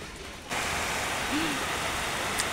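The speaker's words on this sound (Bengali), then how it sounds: "কি বড় বড় ফোঁটা পড়ছে বৃষ্টির" Heavy rain with big drops begins suddenly and keeps up as a steady, dense hiss of falling water, fairly close and without speech.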